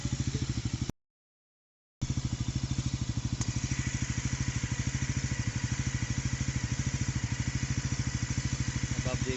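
A new Bajaj Pulsar NS400Z motorcycle engine idles steadily during warm-up, a close, even low throb with rapid regular pulses and faint clatter, broken by one brief dropout near the start.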